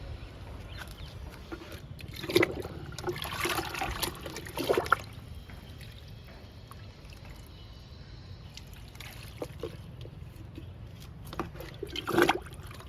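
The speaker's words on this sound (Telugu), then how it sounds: "దానిమ్మ మొక్కలు రెండు ఉన్నాయి ఈ రెండు మొక్కలకి ఇచ్చేద్దాము లిక్విడ్ని" Liquid fertilizer poured onto two pomegranate plants in a home garden, heard as a soft, intermittent trickle and splash in a few short bursts over quiet background, fairly close.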